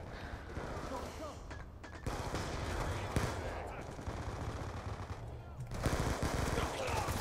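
Rapid bursts of submachine gun fire in Black Ops 2 played on PC crackle almost nonstop, dense and loud, with brief gaps between volleys.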